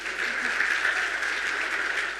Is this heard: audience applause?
yes